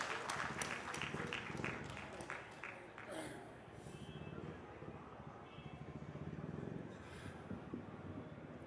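An audience at a poetry gathering during the Aligarh Mahotsav applauds to welcome a poet, loud clapping that fades after a few seconds into crowd murmur and a distant voice.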